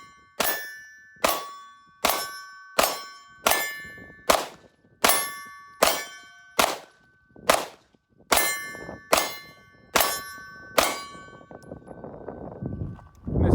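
Air rifle pellets from a CR920X strike two metal targets at about eight to nine yards, giving about a dozen sharp ringing clangs at a steady pace, each with a short metallic ring-out, loud and alone.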